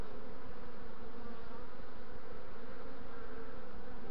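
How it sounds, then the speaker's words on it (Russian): Honeybees buzzing inside a hollow in a linden tree, a continuous low droning hum that stays even and close throughout, with no voices. "видно, там пчелы"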